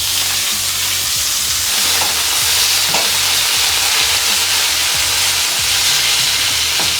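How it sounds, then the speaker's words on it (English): Loud, steady sizzling of ground beef frying in a pan, a constant crackling hiss with occasional scraping stirs, close up. "you hear that sizzle"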